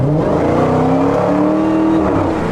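A 2023 Dodge Challenger Hellcat Jailbreak revs hard, its engine note climbing with a loud, steady supercharger whine layered over the deep exhaust roar, close and continuous.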